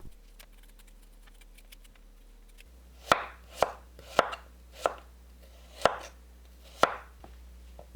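Knife chopping a peeled persimmon on a cutting board for a broccoli salad, six distinct close knocks spaced roughly half a second to a second apart, alone in a quiet room.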